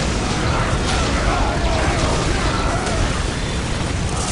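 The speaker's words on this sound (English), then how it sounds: "This area must be cleansed with orbital fire." An orbital strike in the Dawn of War Dark Crusade video game erupts as a dense, roaring blast, a sustained rumbling wall of noise with crackling debris throughout, loud and unbroken.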